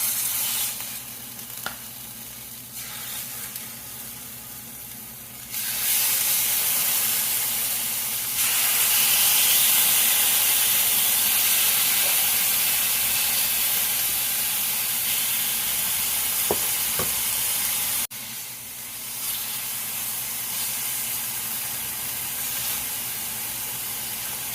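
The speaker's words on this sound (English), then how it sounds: "let's go ahead and start cooking our chicken" Chicken frying in butter in a pan, seasoned with garlic powder, for chicken fried rice: a steady close sizzle that swells louder partway through, with occasional stirring clinks and no talk.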